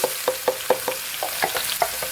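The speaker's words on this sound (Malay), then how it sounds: "kuali kita dah masak kan kawan" Onion filling for sardine popia frying in a wok, with rhythmic spatula strokes scraping and clacking about every quarter second over a soft, steady sizzle, close up and with no talk.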